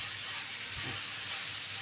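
Dried shrimp (sukka jawla) sautéing with tomato in a pan on the stove, giving a steady, even sizzling hiss close by with no voices.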